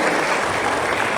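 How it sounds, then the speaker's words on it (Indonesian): An audience claps steadily at a church seminar session in a hall, a dense, even wash of applause held at constant loudness for just over a second with no talk over it. "kita beri tepuk tangan"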